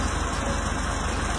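A 1979 VW Combi T2 Westfalia engine idles with a steady, even low rumble and a constant high whine, close and unbroken throughout.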